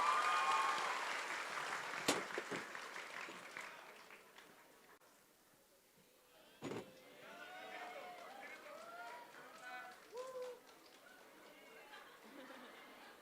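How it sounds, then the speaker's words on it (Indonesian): A crowd at a political gathering in Bandung claps for a man called Kang Jonathan; the applause is loud at first and then fades away, and speech and chatter follow. "boleh tepuk tangan untuk Kang Jonathan"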